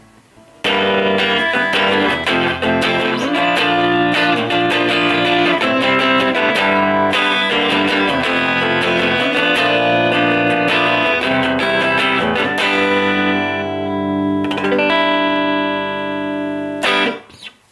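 Clean electric guitar chords and notes through a BOSS DD6 digital delay pedal ring out with echoing repeats, playing continuously and loudly before fading near the end.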